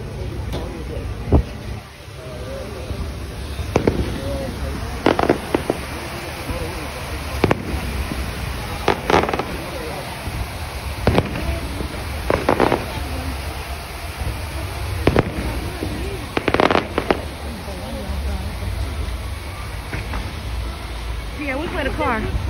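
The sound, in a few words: fireworks exploding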